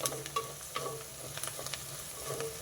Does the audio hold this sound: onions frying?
yes